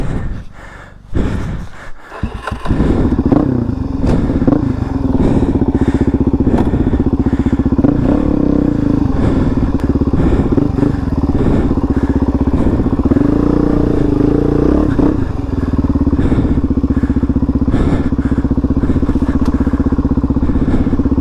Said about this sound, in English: That's a big fucking bike, bro.